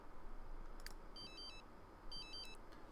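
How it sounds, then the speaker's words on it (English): A phone in The Sims 3 rings in two short electronic trilling bursts, faint and distant over a quiet background hiss, with no voices. "And you can ignore that stupid phone."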